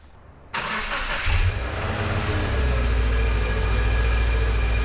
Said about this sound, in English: then we can go ahead and start this thing and see if it only takes the 1 or 2 cranks that it should take to start this car